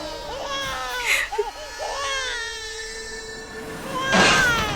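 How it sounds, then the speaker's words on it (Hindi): A baby's cry in a Hindi TV drama scene, a thin wailing cry rising and falling with a louder burst near the end, heard behind background music. "हमारी बच्ची रो रही है"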